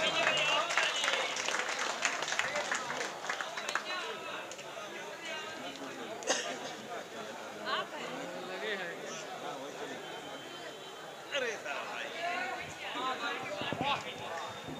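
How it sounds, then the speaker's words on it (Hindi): Applause from a crowd welcoming a guest at a mushaira poetry gathering in Katra Mubarakpur, Azamgarh, India, claps blending into a dense patter that rises and falls, with scattered voices and chatter mixed in. "एक ज़ोरदार तालियों से मेहमान का इस्तकबाल"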